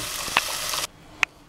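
Dal hits hot oil with a loud, broadband sizzle that cuts off abruptly partway through, leaving a quieter background with a couple of sharp clinks of a utensil.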